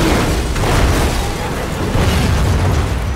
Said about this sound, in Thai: อ้าวเฮ้ยรถระเบิดเลย